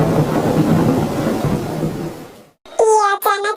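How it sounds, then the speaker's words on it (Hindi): A thunderstorm sound effect for a spoken story, with heavy rain and a loud rolling rumble of thunder that cuts off abruptly before someone begins talking. "अचानक से बाहर बहुत तेज बारिश गिरना शुरू हो जाता है और तेज बारिश की वजह से बिजली भी बहुत जोर से गरज रही थी"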